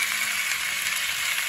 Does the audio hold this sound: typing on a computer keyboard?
no